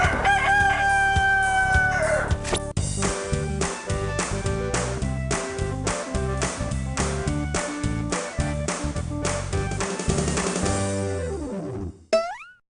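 A rooster crows loudly in a game-show sound cue, followed by a rapid run of springy boing-like tones and a closing pitch sweep.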